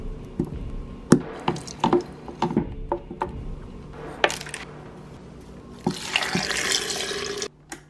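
Water splashes and drips into a blender cup holding onion powder and garlic powder, with irregular close plinks and trickles, then a brief louder pouring gush near the end.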